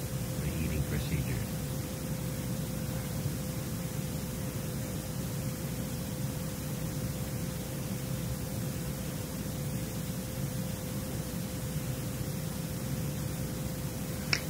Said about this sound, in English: First I got pink noise